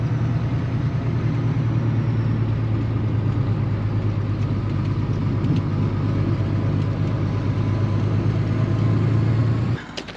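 A truck engine idles steadily beside an old shed being cleared of tin, a constant low droning hum close by that cuts off abruptly near the end.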